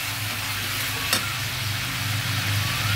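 Whole spices stirred and fried in a pan for a fish-head and bottle gourd curry, giving a steady close sizzle with a spatula scraping through it and one brief sharp clink.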